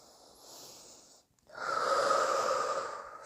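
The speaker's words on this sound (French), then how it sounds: "Faire des respirations comme je viens de faire." A deep breathing exercise during a guided relaxation session: one slow, airy breath, a brief pause, then a longer and louder exhale or inhale, close to the microphone with no speech.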